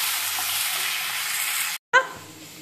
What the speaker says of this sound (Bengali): কষিয়ে নেবো ভালো করে মশলাটা